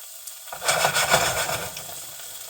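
Blue oyster mushrooms fry over medium heat in a worn nonstick pan, giving a soft, steady sizzle with light crackles and stirring scrapes that rise briefly and then settle.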